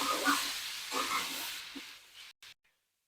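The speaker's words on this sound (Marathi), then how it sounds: "अद्रक ऍड करूयात, लसूण ऍड करूयात। हलकसं परतून घेऊयात" Ginger and garlic sauté in a pan for paneer butter masala, a close hissing sizzle that swells with stirring, then fades and cuts to near silence after a couple of seconds.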